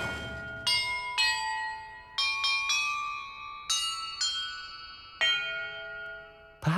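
Bells rung in sequence while solving a puzzle in the video game Hogwarts Legacy, about eight clear, sustained chimes struck one after another at uneven intervals, each ringing on and overlapping the next, with no talk.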